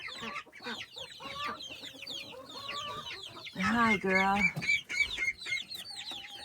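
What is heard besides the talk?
chickens clucking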